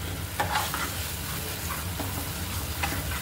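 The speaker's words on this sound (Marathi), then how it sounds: "मसाला चिटकू द्यायचा नाही कढईला, खाली हलवत राहायचं." Chole masala frying in oil in a kadhai while being stirred, a close, continuous sizzle broken by several scraping spoon strokes, with no talking.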